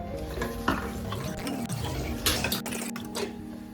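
A glass of water is poured into semolina halwa with sugar in a cooking pot, a close, continuous wet splashing and sloshing with light clinks of utensils against the pan.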